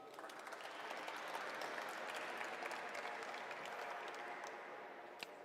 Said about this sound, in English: So please give yourselves a big round of applause.